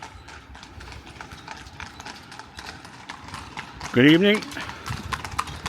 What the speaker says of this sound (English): Oh, we've got a horse coming. Maybe a couple of horses coming.